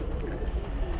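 A handled pigeon cooing close up, a soft low murmuring coo running through a brief moment over a steady rumble.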